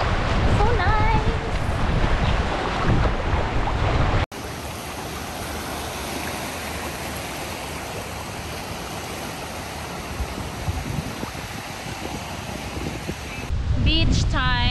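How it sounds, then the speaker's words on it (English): Strong wind gusting across an ocean beach with surf, a steady broadband roar buffeting the microphone for most of the stretch, with voices talking at the start and end. "It's getting too windy and I couldn't enjoy it anymore."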